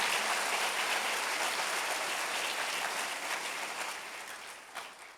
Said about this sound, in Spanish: Denle un aplauso al Señor, un aplauso de alabanza